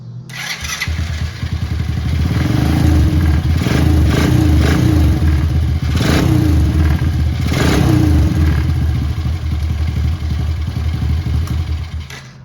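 An ATV engine cranks and starts after its starter chain and tension guides are replaced, then settles into a loud, close, steady idle with a rattly, pulsing rumble, running until it cuts off near the end, with no talking.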